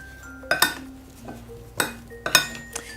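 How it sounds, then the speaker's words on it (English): Sweet potato chips seasoned with garlic salt being stirred in oil in a dish, giving a few sharp clinks and scrapes of utensil against the dish in short separate bursts, close and fairly loud, with no talking. "Let's give it a stir."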